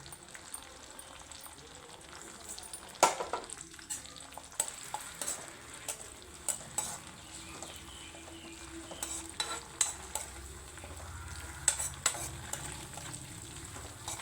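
Curry leaves hit hot oil in a pan of frying mutton curry, giving a steady close sizzle and crackle with occasional louder pops and stirring clinks of a spoon against the pot.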